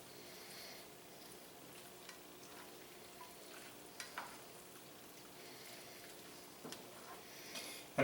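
Pasta in asparagus sauce is tossed in a hot pan, giving a quiet, steady sizzle with occasional soft stirring clinks and scrapes, no talking.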